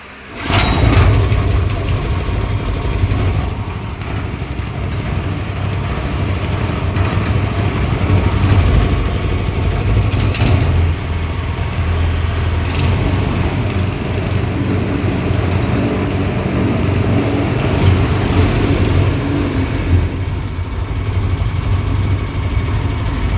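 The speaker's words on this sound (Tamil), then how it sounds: "சோக் ஆன் பண்ணியாச்சு, பெட்ரோல் ஆன் பண்ணியாச்சு. ஸ்டார்ட் பண்ணிடலாம்." A small petrol engine starts with the choke on and then settles into a steady, loud idle. The engine runs close by and continuously for over twenty seconds.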